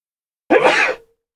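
A single sharp, explosive sneeze bursts out close by, lasting under a second and followed by silence.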